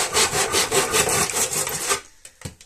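A hand saw cuts through wood in quick rasping back-and-forth strokes, then stops, leaving a few faint scrapes and knocks.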